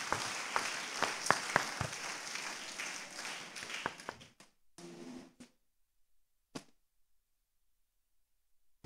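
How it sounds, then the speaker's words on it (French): A church congregation at a Sunday service applauds loudly, a dense burst of clapping with sharp individual claps that fades out after about four seconds, leaving a few scattered sounds and then near silence. "Acclame le fort."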